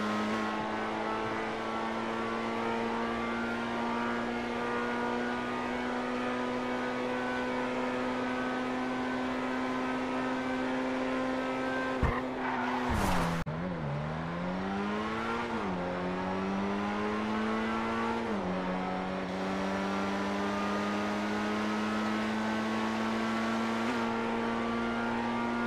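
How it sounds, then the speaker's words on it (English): Ferrari SF90 in GTA Online sustains a smooth high engine whine, then cuts out abruptly around the middle, dips and climbs again through shifting revs while racing, loud and close with no talk. "My SF90 is simply too quick right off the line."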